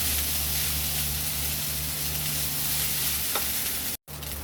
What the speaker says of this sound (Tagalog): Kanin-kanin lang. Haluin lang natin.